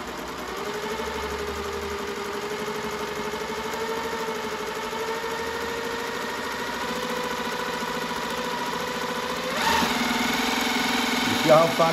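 A Consew industrial sewing machine runs steadily while stitching zigzag, its motor giving a continuous even hum close by, with a short louder burst of stitching near the end.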